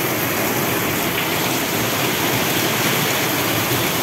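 Heavy rain pours down in a city courtyard in Yeysk, with drains overflowing. The downpour makes a loud, steady, dense hiss that runs unbroken from start to finish, with no voices.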